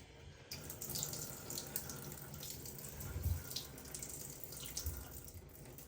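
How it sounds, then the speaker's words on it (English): Water runs steadily from a tap for Loki the cat, a continuous close splashing hiss that lasts throughout with no talk over it. "She loves watching running water"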